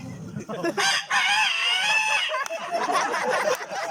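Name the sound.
mimicry artist imitating a rooster crowing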